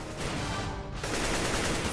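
Rapid gunfire rattles out in a shooter game during bot practice, a dense continuous volley of shots that holds loud and steady throughout with almost no gaps.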